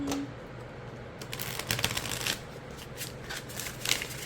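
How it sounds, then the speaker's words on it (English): A tarot deck being shuffled up close, a continuous crisp riffling and flicking of cards with uneven bursts of louder snaps, growing busier after the first second. "the more you work with it, the more easier it would get to shuffle"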